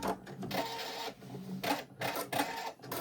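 A sewing machine stitches a crazy quilt section in short rapid bursts, its quick mechanical chatter starting and stopping several times at low volume, with no talking.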